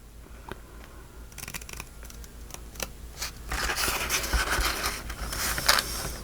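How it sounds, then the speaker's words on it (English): Scissors snipping a small rectangle off a paper file-folder journal page, a series of faint crisp cuts and rustles building to louder, denser scraping toward the end, heard close with no talking. "Now, right here, cut this little rectangle off here."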